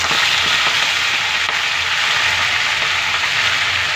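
Malabar spinach with green chillies frying in a hot pan, a steady close sizzle and crackle of oil running evenly throughout with no talking.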